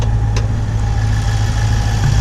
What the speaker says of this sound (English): This is a twin turbo engine.